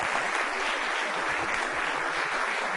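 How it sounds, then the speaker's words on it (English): Steady, dense applause from an audience at a barbecue event, continuous broadband clapping at an even level throughout, with no voices standing out. "Everyone give Cheyenne a big round of applause."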